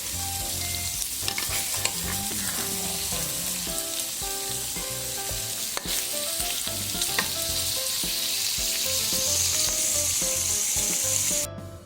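Shrimp and stink beans stir-fry in a pan with southern Thai curry paste, giving a steady loud sizzle throughout with frequent scraping stir strokes and no talking.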